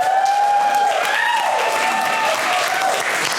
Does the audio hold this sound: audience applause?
yes